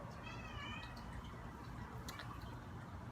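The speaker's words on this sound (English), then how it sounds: "Oh, my cat is coming down, so if she makes any noise, just warning you guys." Soft meowing from a pet cat coming down into a quiet, dim indoor room, a short wavering cry early on over steady low background noise, with no one talking.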